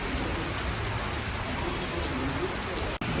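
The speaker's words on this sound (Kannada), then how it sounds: "ಮಳೆ" Steady rain falls over a wet street on a shopping outing, a dense continuous hiss filling the clip with no clear voices, ending with a brief dropout near the end.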